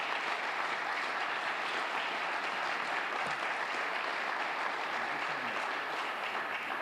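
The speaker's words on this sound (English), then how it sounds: "please give a big round of applause for a mother" Sustained applause from a crowd at a press conference for the family of Tyre Nichols, steady and dense clapping filling the room throughout without a break.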